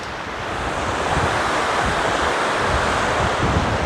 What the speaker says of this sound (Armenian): Երեկվա վրա գետը ահագին շատացել է, վարարել է